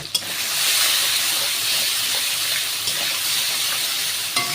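Fish seasoned with turmeric and salt sautéing in a pan for a ripe mango and rohu curry, giving a steady close sizzle and hiss with a few soft stirring knocks, alone without talk.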